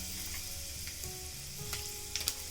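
Urad dal, chana dal, dried red chillies, cumin and mustard seeds sizzling in hot oil for an aloo fry tempering, a dense continuous crackle with occasional small pops and faint utensil clinks.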